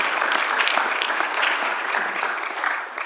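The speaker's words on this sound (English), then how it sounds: "Yeah, that's worth clapping for." A crowd applauds steadily, dense clapping from many hands filling the room at an even, sustained level.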